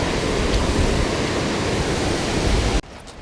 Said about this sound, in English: I threw right at the waterfall, like right where that water drops down into this pool.